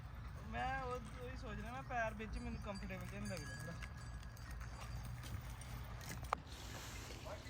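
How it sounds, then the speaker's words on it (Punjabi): Steady clip-clop of a ridden mare's hooves on a hard surface keeps a walking rhythm, while someone talks loudly over the first few seconds. "ਹੁਣ ਘੋੜੀ ਚਲਾ ਰਿਹਾ"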